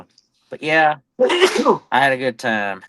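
A single sharp sneeze bursts out in the middle of casual talk, loud and close, with voices speaking before and after it.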